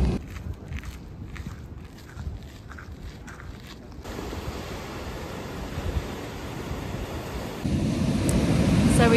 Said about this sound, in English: It's not really a swimming beach though, because the waves are absolutely massive.